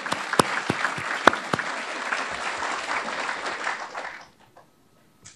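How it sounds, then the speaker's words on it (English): A large crowd at an Air Force base event claps in sustained, loud applause with a few sharp individual claps standing out, then the clapping dies away abruptly into near silence. "let's give them a round of applause"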